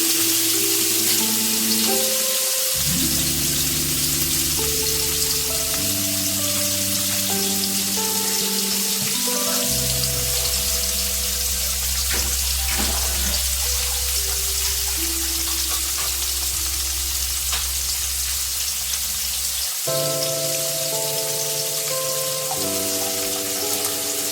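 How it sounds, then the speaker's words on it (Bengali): Chicken pieces frying on low heat in a pan, a steady hiss and crackle throughout with occasional spatters, close and even, with no talk. "এবার তো এই চিকেনটাকে ফ্রাই করবো স্লো আছে।"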